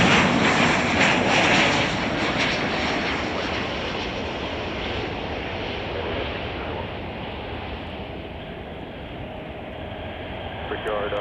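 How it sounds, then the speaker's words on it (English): Jet engine roar of a United Airlines passenger jet arriving from San Diego at Chicago O'Hare, a loud broadband rush that fades steadily, with faint radio chatter underneath. "We're gonna catch United Flight 714 from San Diego."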